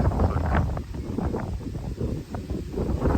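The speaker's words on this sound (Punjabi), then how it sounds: "ਤੜਕੇ ਤੜਕੇ ਵੀ ਹਵਾ ਚੱਲ ਵੀ ਦੇਖੋ" Wind blowing outdoors in sugarcane fields at dawn, a steady broadband rush with gusty surges and rustling throughout, close to the microphone with buffeting.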